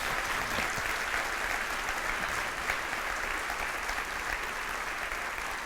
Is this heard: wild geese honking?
no